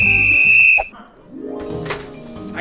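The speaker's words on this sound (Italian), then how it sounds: "Hai sentito questo fischio?" A short, loud whistle tone lasts under a second and cuts off abruptly, followed by a quieter stretch of indoor background and faint voices.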